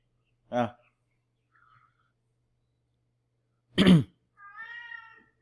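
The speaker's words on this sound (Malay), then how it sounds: "Kucing ni dia masuk Google Meet juga ke?" Cat meows during an online class call, a few separate short cries spaced by silence, the last one longer and drawn out, fairly close and without other voices.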